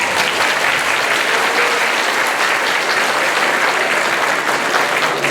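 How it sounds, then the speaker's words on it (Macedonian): A concert audience at an annual folk dance ensemble show applauds loudly and continuously, dense even clapping filling the hall from start to end without talk. "Да ги поздравиме уште со еден аплауз."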